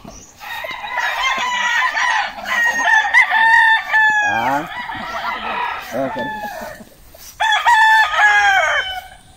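Several derby roosters crow loudly close by, long rising and falling calls that overlap with clucking fowl, while someone says a brief word between the crows.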